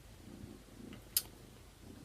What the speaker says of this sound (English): you may hear like a back purr noise. Like a background purr.